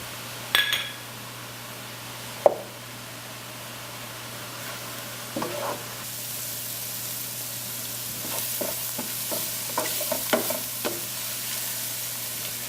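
Butter with a couple of garlic cloves frying among mushrooms in a pan, a soft steady sizzle that swells after a few seconds, broken by occasional clinks of a utensil against the pan.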